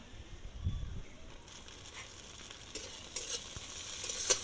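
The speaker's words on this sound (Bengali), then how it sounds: "পেঁয়াজটা লাল লাল ভাজা হয়ে গেছে, এর মধ্যে আমি দিয়ে দেব টমেটো কুচি।" Chopped tomato hits onions already fried deep red in hot oil, setting off a soft sizzle and scraping stir that runs on evenly at close range, with no talking over it.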